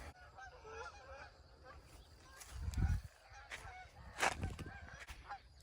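Canada geese honking in a farmyard pasture, a few loud nasal honks bursting out near the middle and again later over quiet outdoor background.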